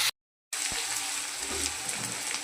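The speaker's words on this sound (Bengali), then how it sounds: "আলুটা একটু ভাজা হবে" Potatoes fry in a pan of oil with onion and cumin, giving a steady close sizzle that follows a brief silent gap at the start.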